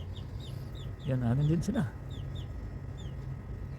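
Chickens cluck softly nearby while a person speaks briefly over them, with a few short bird-like calls scattered through the quiet background.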